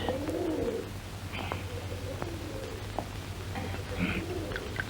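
A pigeon gives soft, low cooing calls at the start and again near the end, fairly close, over a steady low hum and faint background rustle.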